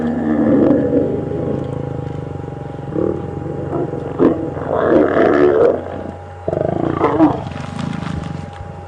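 Lions roaring during mating on a safari drive, deep guttural roars rising and falling in several bursts over about nine seconds, fairly close, with a vehicle engine idling in the background.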